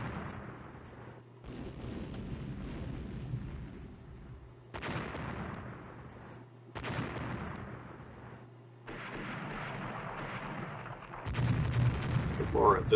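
Booming 6-inch naval gun salvos from the Rule the Waves naval game, several heavy blasts separated by short silences, rolling and fairly loud throughout.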